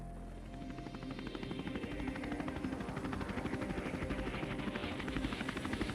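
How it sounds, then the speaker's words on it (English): A medevac helicopter's rotor thumps steadily and loudly nearby at a snowmobile accident rescue, a rapid rhythmic chopping over a low engine drone that swells slightly, with no voices. "she will be moved to the awaiting medevac helicopter"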